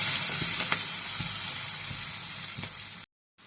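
Onions with turmeric and curry leaves frying in a pan for a brinjal fry, a continuous close sizzle with scattered stirring scrapes, ending in a brief silence.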